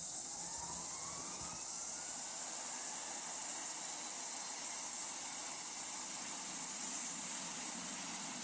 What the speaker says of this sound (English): Start engine 1.